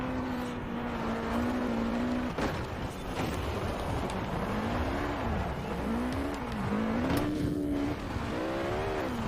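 A Peugeot 205 Forza Edition races in the video game Forza Horizon 4, its engine droning and revving steadily with pitch rising and falling through gear changes, continuous and fairly loud.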